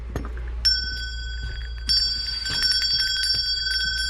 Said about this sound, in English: It's all these bells right here.